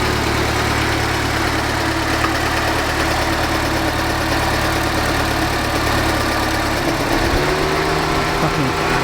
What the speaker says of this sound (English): Let's turn the idle down a smidge.